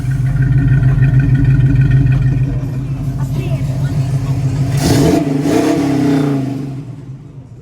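A 1965 Ford Mustang resto mod with a 4-speed pulls away and accelerates, its low engine drone loud and close. It fades at the end as the car drives on.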